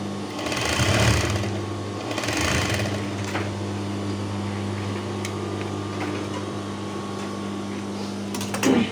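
A sewing machine runs steadily through fabric, stitching two sides of a seam, with a loud continuous mechanical hum and rapid needle clatter, a couple of louder surges early on and a short burst at the end.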